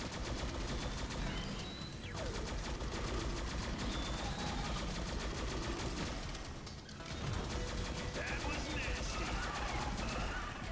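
Project Embra MK II firing in a video game at trash mobs: sustained, dense automatic fire runs almost the whole time, dipping briefly twice, loud and close, with a voice talking over it.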